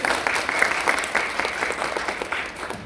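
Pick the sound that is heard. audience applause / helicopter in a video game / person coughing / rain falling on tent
audience applause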